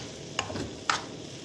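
A spoon stirs cookie filling in a frying pan with two distinct scraping clicks against the pan over a faint, steady sizzle, close and quiet, no voices.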